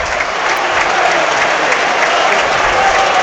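Stadium crowd applauding steadily as Nottingham Forest substitute Ola Aina walks off in a Premier League match against Chelsea, a broad, continuous wash of clapping throughout.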